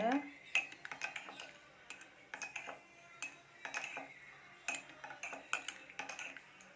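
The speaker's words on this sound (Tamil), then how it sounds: "இப்போ இதை நல்லா மிக்ஸ் பண்ணி விட்டுக்கோங்க." A spoon stirs licorice tea with lemon and honey in a metal tumbler, giving quiet, close clinks and taps in an irregular run against the cup's sides.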